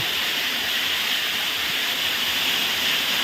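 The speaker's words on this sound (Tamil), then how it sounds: "இதுக்கு உள்ள ஒரே தண்ணி சொண்டு கேட்குது இந்த ரூமுக்குள்ளே" Steady, dense rushing of water fills an enclosed motor room at a dam, a constant hiss-like roar with no break or change.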